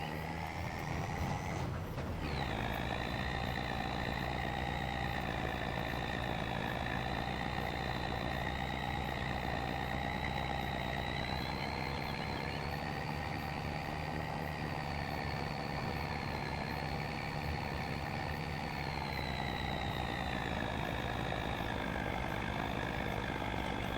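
A truck engine idles steadily in Farming Simulator 25, a continuous low rumble with a faint mechanical whine layered on top. It stays loud and unchanging throughout, with no voices over it.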